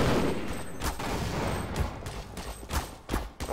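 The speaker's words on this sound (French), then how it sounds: "Elles tirent avec une très grosse précision." Gunfire from enemy soldiers in a first-person shooter set on the road to the Lambda Complex, with sharp shots and short bursts cracking over a continuous noisy battle backdrop, no talking.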